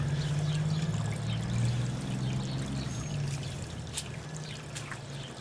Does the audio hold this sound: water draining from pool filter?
yes